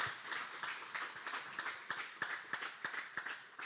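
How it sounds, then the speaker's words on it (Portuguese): A small congregation at a church ministerial examination council applauds the pastoral candidate, a moderate, somewhat sparse round of hand claps with individual claps standing out, fairly quiet and continuing steadily without speech. "Pode aplaudir o candidato para essa resposta brilhante"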